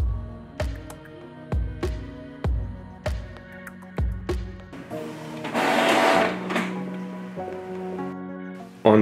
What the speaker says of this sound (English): I can print a nozzle check pattern.